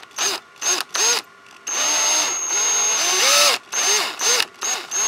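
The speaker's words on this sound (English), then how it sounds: "your drill should be in reverse. Operate it slowly." A power drill runs slowly in reverse with a screw extractor on a stripped hex bolt of a bicycle, whining in short stop-start bursts and then one longer steady run, close up.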